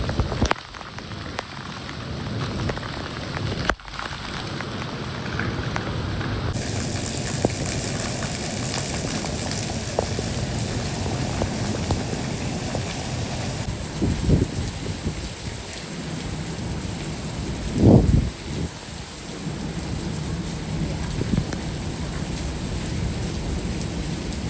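Steady heavy rain pouring down during a summer downpour, a continuous dense hiss throughout with a few louder sharp bursts midway, no voices.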